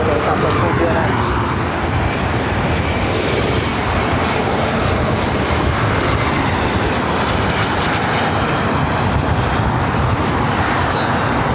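A Southwest airliner departs from LAX, a loud, continuous jet engine roar that holds steady throughout with broadband rumble and no break.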